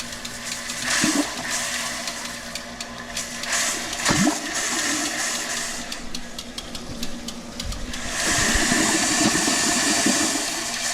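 Water flows in and fills a tank or fixture while an Alaska homestead is being winterized, a close, continuous gurgling rush with a few knocks, growing fuller toward the end.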